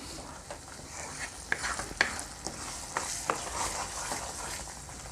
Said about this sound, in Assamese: এতিয়া এবাৰ লৰাই লৈছোঁ